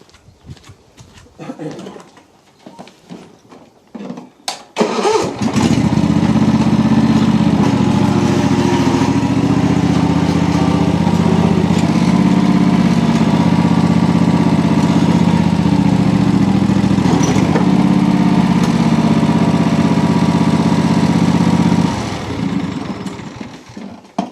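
A ride-on lawnmower, a lawn tractor with a weak brake, is driven up onto ramps. After some clatter and handling noises, its engine runs loud and steady at close range for most of the stretch, then fades near the end.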